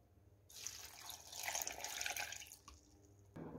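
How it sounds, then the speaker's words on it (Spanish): Half a litre of water poured into a blender for a pipián sauce with cumin, a steady splashing rush building and fading over a few seconds with no talking. "Y del litro de agua vamos a poner la mitad."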